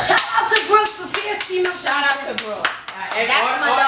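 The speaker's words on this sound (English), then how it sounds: "all the women clap" Women clap together in a podcast studio, giving a burst of sharp hand claps that runs on under someone talking over them.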